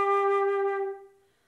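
A flute plays G near the microphone, a bright sustained tone with faint tongued pulses in the breathy attack, holding steady before fading out, with no talking.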